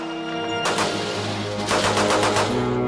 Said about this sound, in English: This is a U.S. rifle caliber 30 M1.